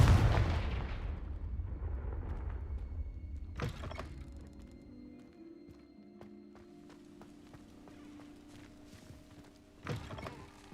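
A Confringo fire spell from Hogwarts Legacy goes off as a sharp, booming blast with a crackling tail, then a second burst near the end, each loud and near over a low ambient game bed with no talk.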